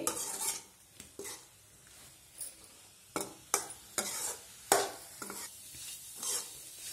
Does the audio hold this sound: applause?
no